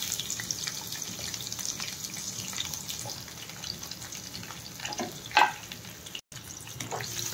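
Chopped onion and green chillies fry in oil in a pan with a faint, steady sizzle, joined by a brief stirring clatter partway through.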